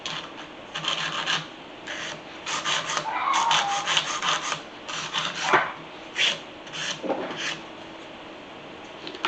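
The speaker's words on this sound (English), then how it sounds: "I'm gonna file this one to the same shape" An acrylic nail on a mannequin hand being shaped with a nail file, steady close rasping strokes in quick repeated bursts with short pauses between them, with no talking.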